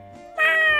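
A short cat meow from the farming video game Story of Seasons, a single clear rising and falling call heard up close with no talk over it.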